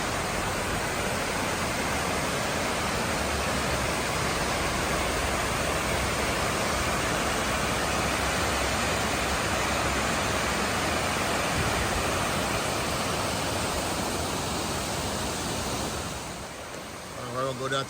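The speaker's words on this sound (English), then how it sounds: "There's a waterfall right there." Waterfall at High Falls State Park, a loud constant roar of rushing, crashing water heard close by, dense and unbroken until a brief shift at the very end.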